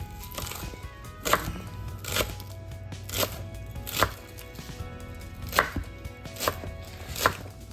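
A knife chops green onions on a cutting board, sharp evenly spaced thwacks roughly once a second, close and clear over a faint background hum.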